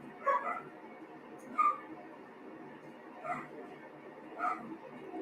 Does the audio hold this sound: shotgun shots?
no